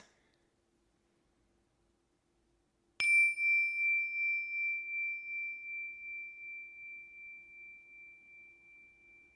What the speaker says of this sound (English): I will ring a bell to signify the start of practice